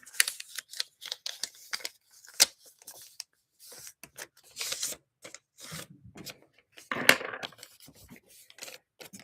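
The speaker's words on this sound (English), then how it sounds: "I'm gonna go ahead and cut up some slips of paper first" Scissors snip through slips of paper in quick, irregular cuts, with light paper rustling between snips, close and fairly quiet, no talking.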